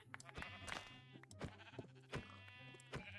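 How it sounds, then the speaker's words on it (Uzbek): Repeated Minecraft sheep bleats, two drawn-out calls among short ones, over a looping background tune and clicks, with a voice murmuring quietly. "Qo'y bor ekan bu yoqda."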